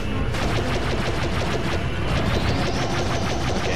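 Space-battle torpedoes and blaster fire in Star Wars Battlefront 2, a dense, loud barrage of rapid repeated shots and impacts over a steady roar, with a rising whine toward the end.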